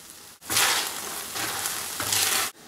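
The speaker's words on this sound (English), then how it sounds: "Add your basil and peas and stir through." Frozen peas and basil stirred into risotto in a pan, a close, steady sizzle and scraping stir lasting about two seconds with no talking.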